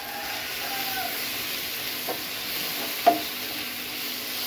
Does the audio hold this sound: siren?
no